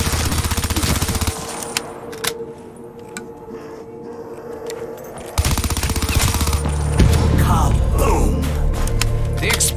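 Gunfire and explosions in Black Ops Zombies on a custom 1984 Berlin town map: loud rapid automatic bursts, sharp booms and impacts, with a brief quieter lull before the shooting resumes heavily.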